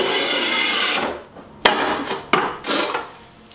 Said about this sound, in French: on va faire la première découpe de notre premier carreau pour voir ensuite la disposition de tous les autres